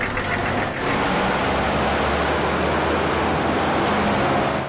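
A car engine runs steadily as the car is driven, a loud, continuous mid-range drone with road rumble, with no talking over it.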